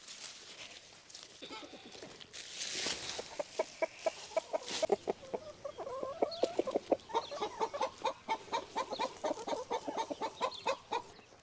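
Backyard chickens cluck in quick, rhythmic bursts close by, the pecking calls growing busier and more regular as the flock gathers around garden greens in a permaculture vegetable patch.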